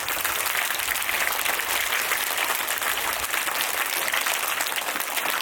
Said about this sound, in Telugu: ఇంకొకసారి గట్టిగా క్లాప్స్ కొడదాం మళ్ళీ